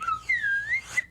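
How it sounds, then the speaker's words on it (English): Slide whistle used as a cartoon-style comedy effect, a single clear tone gliding up, then down and back up over about a second, loud and alone. "slide whistle, little comedy effect, guy going up and down"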